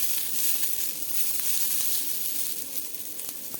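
Fresh tur (pigeon pea) beans roasting in a pan over medium heat give a soft, even sizzle and hiss with light rustling stirs, close by and without talk.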